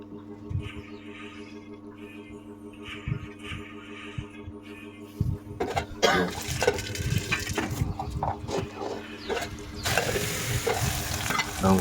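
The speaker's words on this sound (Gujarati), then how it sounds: "ડુંગળી આપણે તેલમાં બરાબર ચડવવાની છે" Onion frying in oil with mustard seeds and cumin for a spring onion curry: a low hum and faint clicks give way to a loud, busy sizzle with stirring scrapes in the second half, no voices.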